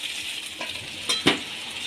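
Vegetables sizzle in oil in a pan for veg biryani, a soft continuous frying hiss broken by a couple of sharp metallic clinks from stirring.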